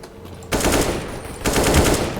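In CS:GO, two rapid bursts of automatic rifle fire sound close and loud, the first running about a second before a brief pause and the second following straight after, with no talk.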